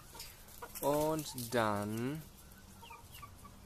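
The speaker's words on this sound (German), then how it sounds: "Ich gucke mir erstmal ein bisschen meine Hühner an, wie die fressen." Backyard chickens cluck loudly and close while feeding, two drawn-out calls standing out above quiet garden ambience, with a few brief spoken words.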